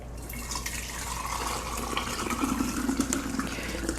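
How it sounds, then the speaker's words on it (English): Homemade strained mint syrup pours steadily from a pot into a bottle, a continuous liquid trickle and splash that builds slightly toward the end, with no speech. "And I'm going to go ahead and pour."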